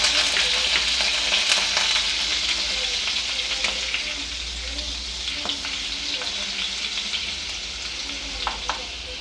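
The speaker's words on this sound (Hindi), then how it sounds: "2 चम्मच रिफाइन ऑयल, और इसमें डाल देंगे हम बटर, 2 चम्मच के लगभग" Butter melts into hot refined oil in a pan on medium flame, making a steady, bright sizzle with scattered pops and faint spoon clicks, close and continuous, with no voices.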